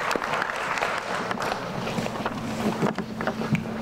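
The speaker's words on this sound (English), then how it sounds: "How about a round of applause for the team?" Steady applause from an audience at the It's Academic quiz show, a continuous patter of clapping with no voices over it.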